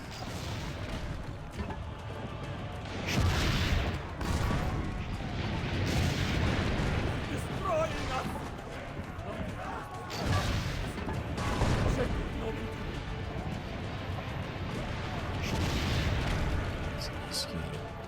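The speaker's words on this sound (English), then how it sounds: "Try to get these cannons." Cannons boom repeatedly in Assassin's Creed Brotherhood gameplay, heavy blasts rising over a constant battle din at a steady interval.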